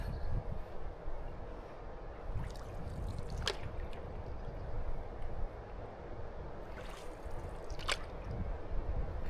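River Waveney water pours over the weir at Weybread Mill, a steady low rushing roar heard from a canoe on the river, with occasional small splashes and knocks.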